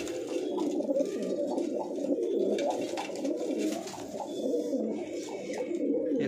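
Punjabi Malwai pigeons, a green Punjabi male and white females, cooing continuously in soft overlapping throaty calls at close range, with a steady low murmur and no speech.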